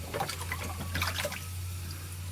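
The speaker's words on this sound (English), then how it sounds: "I'm going to rinse the bleach off, and it should get a little bit whiter and lighter" Water rinsing bleach off a large-format color photographic print, a soft splashing trickle with drips over a low steady hum, brief and fairly quiet.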